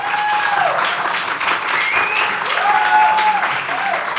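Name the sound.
live audience applause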